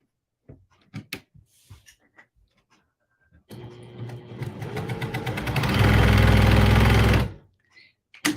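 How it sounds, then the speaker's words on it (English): A quilting sewing machine starts up and stitches rapidly in a dense, mechanical whirring run of several seconds that speeds up and grows louder before stopping abruptly, framed by soft clicks and handling noises before and after. "I'm going to show you how fast it sews"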